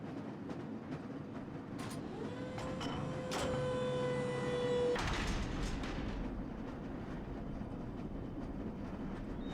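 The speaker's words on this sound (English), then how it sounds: "This lever-controlled train will transport you to a location where your training associates are waiting for you." A lever-controlled train in the video game Black Mesa rumbles along with mechanical clanks and a sustained metallic whine, then a loud clunk before the rolling noise continues steadily.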